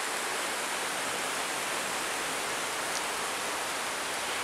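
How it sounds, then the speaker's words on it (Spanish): Water runs between stones in a wooded ravine at Cuernavaca, Morelos, a steady broadband rush close by that fills the whole stretch without pause or voices. "el agua que corre entre las piedras"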